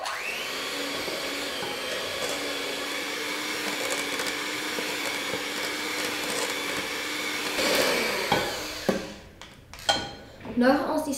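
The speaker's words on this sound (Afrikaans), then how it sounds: "Die eerste stap is om die botter en die grondboontjie botter te meng." Butter and peanut butter being mixed into a peanut butter cookie dough, a steady whirring mixer drone running for about eight seconds, then stopping, followed by a few close scraping and knocking sounds.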